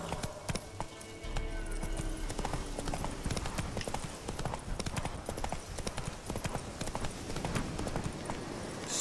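Roach, the horse in The Witcher: Wild Hunt, gallops in a steady run of rapid hoofbeats with a brief whinny early on. Loud, close and continuous, with faint game ambience beneath and no talk.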